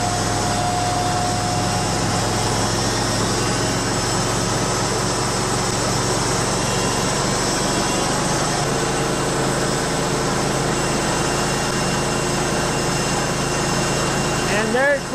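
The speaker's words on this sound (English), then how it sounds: "And there's full throttle at about 3300. Running nice and smooth." An HD38 sawmill engine with bandwheels and blade turning, held at a steady, loud idle-to-high drone that climbs toward full throttle near the end.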